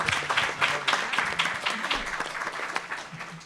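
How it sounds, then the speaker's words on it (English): A crowd claps and applauds steadily for a few seconds, a dense patter of many hands at moderate distance, with no voices over it. "Give yourselves a round of applause."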